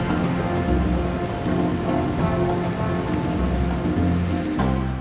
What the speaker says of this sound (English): waterfalls are so enticing that I'm tempted to take a closer look